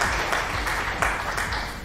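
Brief scattered applause, a short burst of clapping at moderate volume that fades toward the end, with nothing spoken over it.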